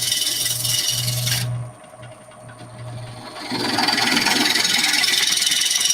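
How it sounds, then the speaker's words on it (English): A woodturning tool cuts shavings from hard timber, a loud rasping hiss that drops away briefly, leaving a low hum, then returns steady and strong. "Jay was actually pulling some pretty decent shavings off of that timber"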